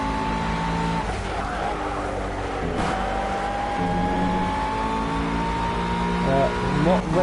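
Engine whine of a VTEC-powered McLaren Honda GT3 race car at Laguna Seca in a racing video game, a steady rising tone with other cars and tyre noise around it, under continuous commentary talk.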